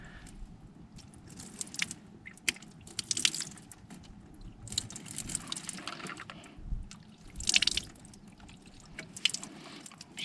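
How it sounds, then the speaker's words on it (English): Water splashes and trickles over a salt-soaked drone as it is rinsed off aboard a sailboat, in uneven bursts of spraying and dripping with louder gushes every few seconds, close by and without talk. "Let's get the salt water off of it."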